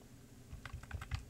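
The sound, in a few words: tapping computer keyboard keys to nudge audio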